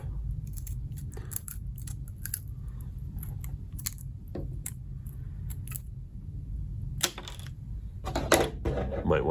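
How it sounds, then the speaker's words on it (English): Sharp snipping clicks of poor-quality scissors cutting come in irregular bursts, close up, growing busier and louder near the end amid quiet room noise. "Might want to use some slightly better scissors next time"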